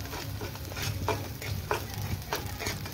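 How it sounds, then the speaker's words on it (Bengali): An egg frying in a hot karahi without oil, with a soft, continuous sizzle and occasional scraping stirs from a utensil, close and fairly quiet, with no talking. "গরম কড়াইয়ে এক সাইডে দিয়ে দিব বিনা তেলের আমি একদিকে এদিকে ডিমটাকে ভালো করে এমনি ভেজে নেব"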